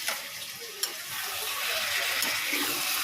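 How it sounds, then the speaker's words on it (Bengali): Marinated mutton sizzles and fries in a hot pan on a gas stove, a steady hissing crackle with a brief clatter near the start, close and fairly loud throughout. "এখন সবে দিলাম তো মাংসটা এখন অনেকক্ষণ ধরে কষাবো"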